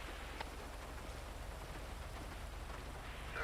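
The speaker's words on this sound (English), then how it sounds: "rainy night, or morning rather." Steady, even rain pours down through the night in GTA V, a dense continuous hiss of drops falling on surfaces around the street, with no voices over it.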